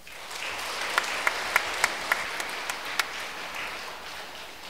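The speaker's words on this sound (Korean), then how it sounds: "응원의 박수 한번 부탁드립니다." A Catholic church congregation applauds during Mass, a steady wash of clapping from many hands with a few sharper, nearer claps standing out, lasting several seconds without talk.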